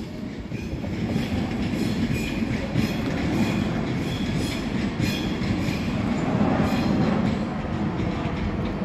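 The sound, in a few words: passing Class 390 train City of Lichfield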